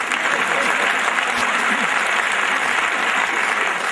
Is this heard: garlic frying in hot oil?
no